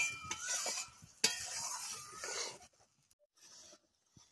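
Raw mango boiled for a Bengali village-style fish curry being stirred in a pot, giving soft wet scraping and sloshing for about two and a half seconds, then near silence with a faint stir or two.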